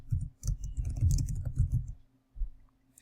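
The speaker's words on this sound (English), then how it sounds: "you will need to type in a subject name" Typing on a computer keyboard comes through as a quick, close flurry of light key clicks, then a short pause and a few final taps.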